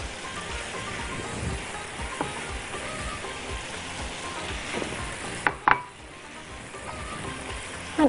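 Peppers and tomatoes sizzling in a pan for beef shawarma: a continuous crackling fry with soft scraping as the vegetables are stirred, close up, with a couple of brief utensil clatters near the end.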